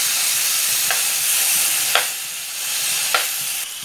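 Chicken and tapioca frying in a pan, a loud continuous sizzle up close, broken by about three brief scraping knocks as the pieces are turned over.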